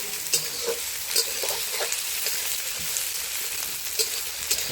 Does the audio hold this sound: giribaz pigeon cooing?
no